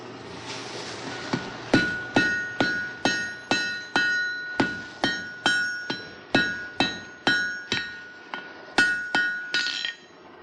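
Regular ringing hammer blows strike hot wrought iron on an anvil at a forge, tacking pieces together for a forge weld, about fifteen sharp metallic hits in a steady rhythm, close and clear.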